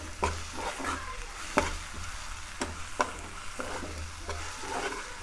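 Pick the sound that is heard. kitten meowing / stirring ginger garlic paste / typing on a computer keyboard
stirring ginger garlic paste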